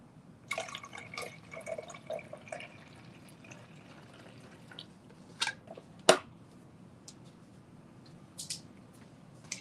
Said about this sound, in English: I'm just putting some water in my iron.